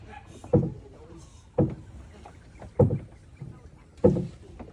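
A rowboat or small boat out on the water in Kompong Thom, Cambodia, with four or five loud, evenly spaced low surges about once a second, each rising sharply then fading.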